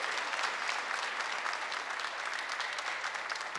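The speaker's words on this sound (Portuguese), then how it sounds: "Quer aplaudir, aplauda" Listeners at a Portuguese-language church sermon applaud in a steady, dense crowd clapping, evenly sustained and heard from some distance at low volume.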